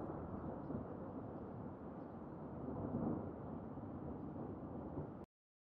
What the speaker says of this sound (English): Loud, rumbling sound caused by lightning during a storm.